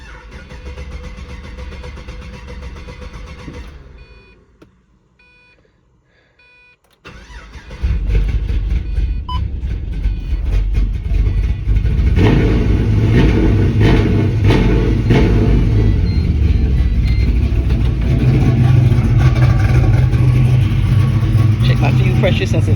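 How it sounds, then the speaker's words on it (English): A Pontiac GTO engine cranks over after someone speaks, then catches, fires up and revs, settling into a loud, steady running roar that lasts to the end. "I'm gonna try to crank it over just for the hell of it"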